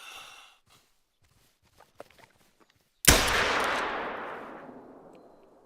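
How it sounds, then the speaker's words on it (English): A single loud pistol shot fired at a target 100 meters away, a sharp crack followed by a long decaying outdoor echo, preceded by a few faint handling noises and quiet breathing. "See if we can't take him with the pistol at 100 meters."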